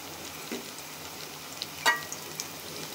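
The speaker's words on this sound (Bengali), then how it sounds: "খুব আস্তে আস্তে পকোড়াগুলো ভেজে নিতে হবে।" Fenugreek leaf pakoras fry slowly in oil with a steady, quiet sizzle, broken by a few soft crackles and one brief louder pop near the middle.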